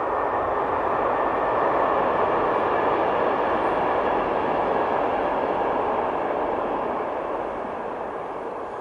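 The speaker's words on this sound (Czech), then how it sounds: "projede vlak tady, takže musím chvilku počkat" Train passing by nearby, a steady broad rumbling roar that holds for several seconds and then slowly fades slightly, with no talk over it.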